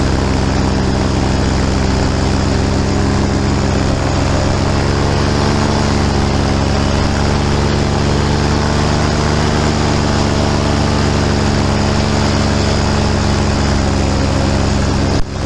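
A light aircraft's propeller engine drones loud and close without a break as it comes down to land on a football field, a steady buzzing hum with no talking.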